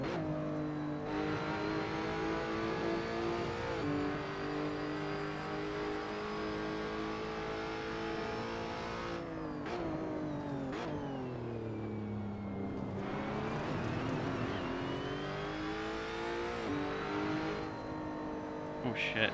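Several Lotus Evora GTC race cars at Laguna Seca in a racing game, engines droning steadily and revving with shifting pitch throughout, a dense pack of cars close behind, with a voice talking over parts.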